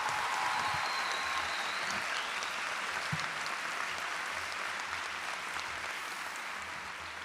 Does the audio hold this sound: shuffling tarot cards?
no